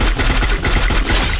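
Rapid automatic gunfire rattles loudly in a squad-versus-solo video game shooter, a dense burst of close shots filling the whole short moment without speech.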